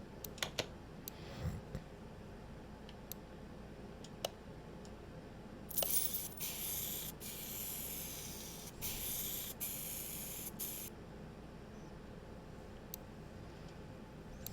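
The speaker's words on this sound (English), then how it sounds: "Yep, spray it the factory color." In Car Mechanic Simulator 2021, a spray gun paints a car in the paint shop, giving a steady hissing spray for several seconds over quiet clicks and low game ambience, with no talking.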